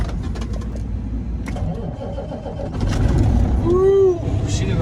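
An old truck engine cranks over and catches, a close rising motor rumble that grows louder near the end, with birds chirping and a voice speaking over it.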